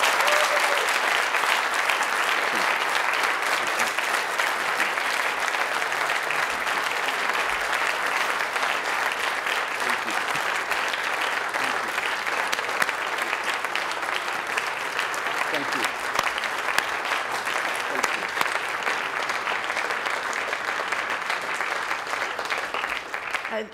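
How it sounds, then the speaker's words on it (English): An audience gives long, steady applause after a keynote address at a leadership conference, with dense, even clapping sustained at full strength for over twenty seconds. "I just want to ask everybody for one more round of applause"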